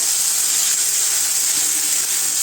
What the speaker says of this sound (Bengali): ভাজা করে নেবো।